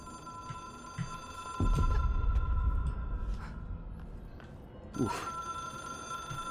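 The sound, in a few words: telephone ringing in the video game Control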